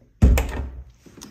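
A cupboard door holding drinking glasses opens with a sudden solid wooden thunk followed by a fading rattle and a lighter knock, close and loud, with no talking.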